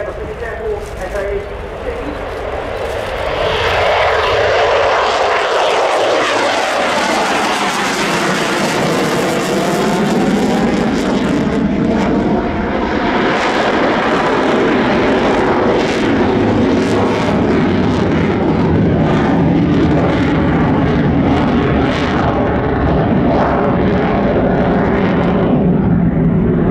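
A Finnish Air Force F-18C jet flies a display at the 2019 Royal International Air Tattoo, its loud roar sweeping in and swelling as it passes close overhead, while a commentator talks over the noise throughout.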